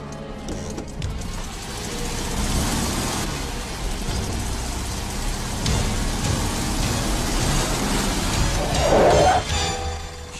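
A car drives steadily toward someone, its engine and road noise holding a constant loud rumble for about ten seconds, with a brief rattling clatter near the end.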